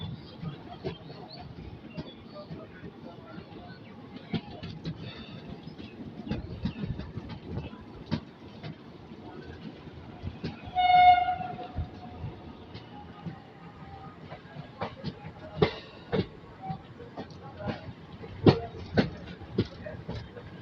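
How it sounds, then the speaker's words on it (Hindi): The Jaynagar Express rolls along a curve at sunrise, its rumble and wheel clatter heard from on board at a moderate distance, with intermittent clicks and a brief horn-like tone midway. "खूबसूरत सा कर्व लेते हुए ट्रेन।"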